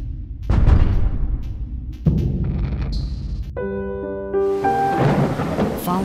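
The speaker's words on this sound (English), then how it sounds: "The sound of thunder now strikes terror in the hearts of residents." Deep rolling thunder booms and rumbles in several heavy waves, with a rain-like hiss and a rising tonal layer building toward the end.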